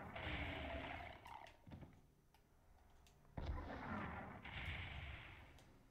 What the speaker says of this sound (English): Eat a rocket.